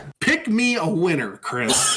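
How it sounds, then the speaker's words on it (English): A single short cough breaks in near the end of close, lively male speech during a casual gaming chat. "I coughed."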